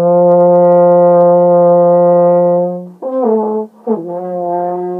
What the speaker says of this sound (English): I'll play it for you first, and then you can hit it and try to find it and hold it.